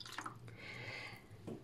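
Milk and water being poured into a bowl for dough, a quiet trickling splash with a few small drips, close and faint.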